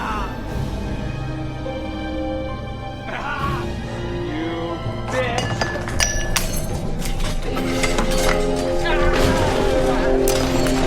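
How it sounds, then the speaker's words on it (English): A wine glass is knocked over during a tense film scene, bright clinks and a clattering crash among other tabletop knocks, layered over dramatic music with a voice underneath. "he knocks a wine glass over as he says"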